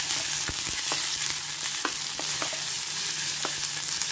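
Chopped small onions fry in a pan with a steady close sizzle, while several sharp clicks and taps of a spatula land irregularly against the metal. No one speaks.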